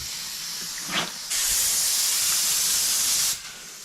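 A paint spray gun set to about 25 psi sprays paint on an OBS Chevy truck body. A brief puff comes first, then a steady, loud, airy hiss for about two seconds that cuts off abruptly.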